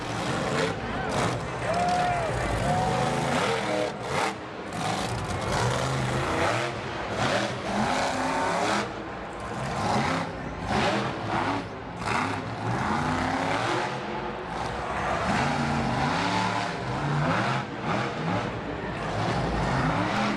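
Ice Cream Man monster truck racing at a 2015 Monster Jam event in Jacksonville, its engine roaring loud and continuous with repeated revving surges, mixed with arena noise and voices.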